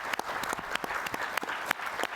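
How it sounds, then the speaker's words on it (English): An audience at an annual meeting closing ceremony applauds, a moderately quiet, steady patter of many hands with a few sharper claps popping out, lasting about two seconds. "can we give her a round of applause, please?"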